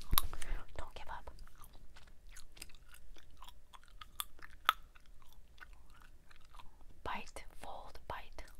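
Trident Splash strawberry-lime gum is chewed close up with wet, soft chewing and sharp little snaps and cracks scattered through, quiet overall with faint whispery breath.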